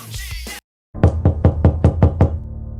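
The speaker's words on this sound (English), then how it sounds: "It sounds like someone's at the door." Knocking at a house door: seven sharp, evenly spaced raps, loud and close, after a brief burst of other sound and a short silence.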